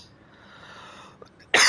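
One sudden, loud, harsh cough bursts out near the end after a stretch of faint room quiet, from a person still recovering from an illness.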